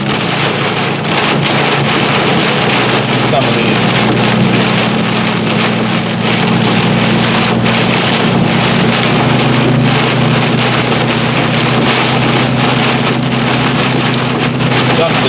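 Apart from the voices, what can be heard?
strong wind gusts during a storm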